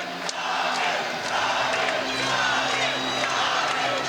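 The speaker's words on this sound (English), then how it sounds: "Crowd is going wild." A crowd at an MMA event roars and cheers wildly in a dense, sustained wall of voices that swells slightly and stays loud throughout, with no single speaker standing out.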